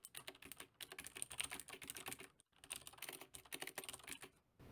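Rapid typing on a computer keyboard while editing settings in Visual Studio Code, dense clattering keystrokes with one brief pause, close and fairly quiet, no talking.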